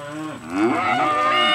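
Black Angus-Santa steers moo loudly and close by in a continuous, drawn-out bellowing call, with rising and falling pitch, no voices over it.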